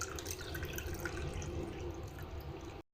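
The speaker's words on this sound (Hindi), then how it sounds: "अभी हम 1 कप जो पानी है मज़ीद इसके अंदर ऐड करेंगे।" Water poured from a cup into a homemade rosemary and fenugreek hair remedy, a steady close splashing flow lasting almost three seconds before stopping abruptly.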